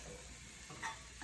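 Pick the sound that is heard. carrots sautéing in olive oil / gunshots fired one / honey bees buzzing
carrots sautéing in olive oil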